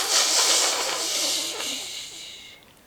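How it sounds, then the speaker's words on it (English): A steam engine lets off steam in a long, loud hiss that is strongest at the start and gradually fades out, with no other sounds around it. "suddenly let off steam. Whoosh!"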